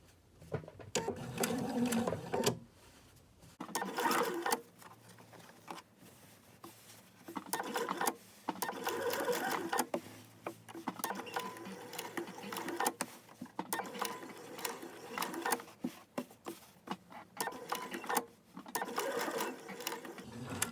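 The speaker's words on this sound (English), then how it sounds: "keep your fabric straight so you don't end up sewing part of the shirt underneath" A sewing machine stitches a T-shirt into a tote bag, running in short bursts of rapid, close whirring stitches separated by brief pauses as the fabric is pivoted around curves.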